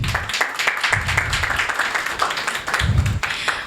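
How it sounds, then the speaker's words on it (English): Audience applause welcoming the Digilogic Consortium at a logistics event in Zambia, loud close clapping with low thumps of handling noise running underneath. "Just give them a round of applause, everybody."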